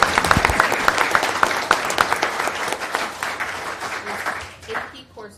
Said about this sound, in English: And a round of applause is definitely important.